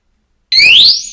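Anti-theft disc brake alarm lock on a motorcycle gives a sudden loud, shrill electronic siren with rising and falling sweeping tones after a moment of silence, continuing steadily to the end.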